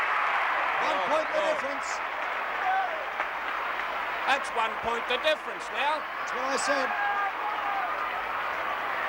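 A huge stadium crowd roars at the 1968 VFL Grand Final between Carlton and Essendon at the MCG, a loud, sustained wall of noise that never drops away, with a commentator talking over it throughout.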